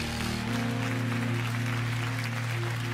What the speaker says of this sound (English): Stand to your feet and give the Lord a great big hand clap all over this building.